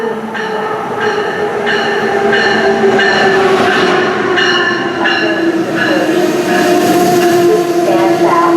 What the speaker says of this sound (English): A train is approaching.